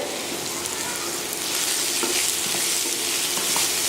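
Salted onions fry in a pan for shutki bharta, giving a dense, bright, close-up sizzle that swells slightly louder toward the end.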